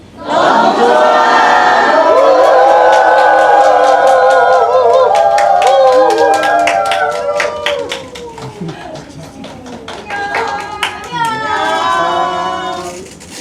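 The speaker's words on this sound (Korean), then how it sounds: "여러분 크게 환호 부탁드릴게요." A Korean cinema audience at a film screening Q&A with the cast and director cheers loudly and claps, a dense roar of voices that builds, thins into scattered hand claps, then swells again with whoops.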